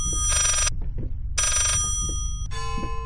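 An old telephone rings in the horror game Layers of Fear, two loud electronic bursts separated by a short gap and then a third, thinner ring, all close and uninterrupted by talk.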